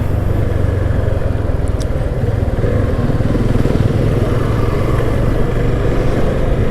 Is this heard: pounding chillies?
no